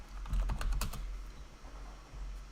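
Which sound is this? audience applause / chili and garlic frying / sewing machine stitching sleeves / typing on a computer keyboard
typing on a computer keyboard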